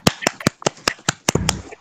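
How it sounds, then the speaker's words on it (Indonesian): A class of students gives a short round of applause: about eight sharp, separate claps at a steady rhythm, fairly close and moderately loud, with a burst of scattered hand noise near the end. "Tepuk tangan untuk kita semua"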